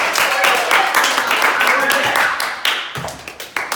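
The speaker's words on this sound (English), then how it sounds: "everybody give Jared a round of applause" A round of applause for Jared from a church group gathering, a short burst of scattered claps mixed with murmuring and voices that thins into a few last claps.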